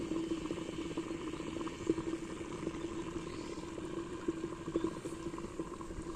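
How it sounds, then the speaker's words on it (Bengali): Water boils inside a hot clay pot with a faint, continuous bubbling and occasional soft pops. "এই যে দেখো কিভাবে বলকাইতেছে।"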